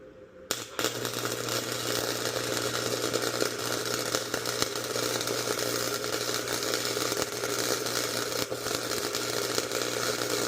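A welder runs weld beads, giving a steady, close, crackling hiss that starts abruptly and continues unbroken at an even level.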